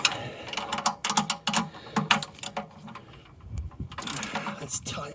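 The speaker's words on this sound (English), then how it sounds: "Ah, the joy of pulling spanners or ratchets." Ratchet spanner pulled in strokes to tighten a bolt on a worn old car, rapid clicking bursts of pawl ticks with short pauses, close by, with some faint speech-like sound mixed in.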